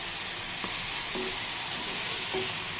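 Brinjal (eggplant) pieces shallow-frying in a pan for a spicy fry, giving a steady close sizzle with a few faint scrapes as the slices are turned.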